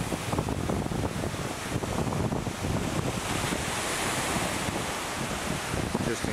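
Surf washes continuously onto a South Carolina beach at sunset, a rough, rolling rush of waves heavily mixed with gusty wind buffeting the microphone.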